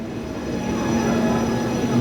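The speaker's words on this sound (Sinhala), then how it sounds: "දැන් ට්‍රේන් එක ඇවිල්ලා" A train rumbles in close and loud, wheels grinding on the rails with a faint steady squeal, growing slightly louder.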